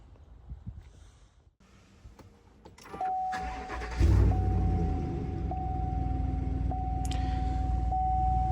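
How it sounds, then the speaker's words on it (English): A 2019 Silverado truck with auto stop turned on starts up. Faint clicks and shuffling come before it cranks and catches, and then it settles into a loud, steady idle while a dashboard chime tone rings over it. "So when I start the truck, the auto stop functionality is turned on"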